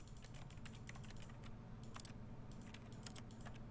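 Rapid keyboard typing in The Stanley Parable: a dense, continuous patter of light key clicks, with some louder taps standing out, over a low steady hum.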